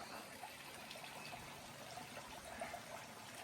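A small creek flows down through a narrow rocky gorge, giving a soft, continuous trickling rush that stays faint and even, as if heard from a short distance, with no voices.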